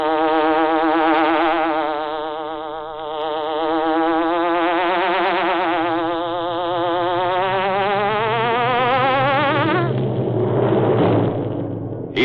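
A loud buzzing hornet effect for an old-time radio crime drama swells and wavers in pitch like a big insect circling close, running for about twelve seconds over a low rumble with no speech.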